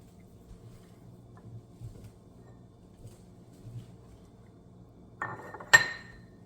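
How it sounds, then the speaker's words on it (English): A spatula scrapes a cream mixture into a small oven-safe dish, ending in a couple of close, sharp clinks and scrapes against the dish after a quiet stretch of faint handling noise. "I am going to scrape this mixture into this cute little oven-safe dish."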